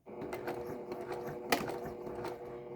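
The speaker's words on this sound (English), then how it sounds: "So I'm going to back stitch there again." A sewing machine back-stitches a pillow in short rattling bursts, its needle tapping out a quick mechanical rhythm, with a sharp click partway through.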